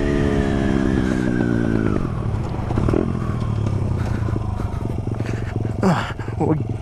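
A Honda CRF100 dirt bike engine runs loud and close throughout, holding a steady drone with rising and falling harmonics as the rider eases along in a low gear, with a few clattering bumps near the end.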